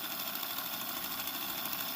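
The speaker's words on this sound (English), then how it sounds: "I've got this motor here connected to some transformer test leads here. and you just need to let it run" Small model train electric motor running steadily on transformer test leads, a continuous even whirring hum with a faint buzz, close and alone without talk.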